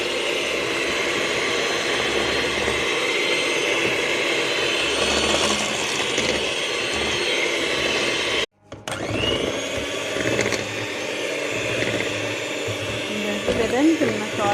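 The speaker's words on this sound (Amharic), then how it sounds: "በማሽናችን እንመታዋለን ማለት ነው።" An electric hand mixer beats basbousa batter of sugar, water and baking powder with a loud, continuous whirring drone. The motor stops briefly midway, then restarts and keeps running steadily.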